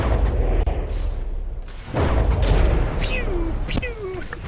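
Guns fire in the video game From the Depths, a dense rumbling barrage of booms and rapid shots with a whistling projectile, loud and continuous with a voice talking over it.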